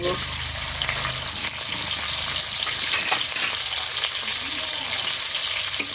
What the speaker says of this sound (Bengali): তেলটা গরম হয়ে গেছে, কেটে রাখা পেঁয়াজ, রসুন, কাঁচামরিচ দিয়ে দিব।